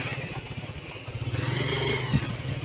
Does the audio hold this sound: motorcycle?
yes